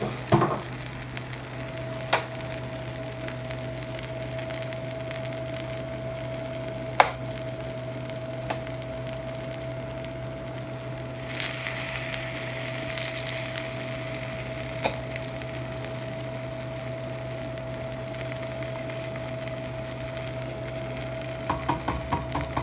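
Beef for birria tacos frying steadily in a pan, a continuous close sizzle with occasional clicks and stirring, swelling louder partway through.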